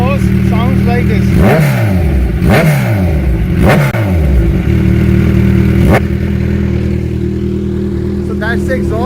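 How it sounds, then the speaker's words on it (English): Kawasaki Ninja 1000 motorcycle with an Austrian Racing aftermarket exhaust, revved hard three or four times in quick succession, each blip rising and falling sharply over a steady loud idle, close by. "this exhaust sounds like this."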